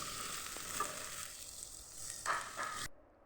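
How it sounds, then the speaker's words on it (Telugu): Chopped onions fry in hot oil, a close, steady crackling sizzle with brief stirring scrapes, alone, before it cuts off abruptly near the end. "ఆయిల్ వేడెక్కిన తర్వాత కట్ చేసుకున్న ఉల్లిపాయలను కూడా అందులో వేసుకున్నాను."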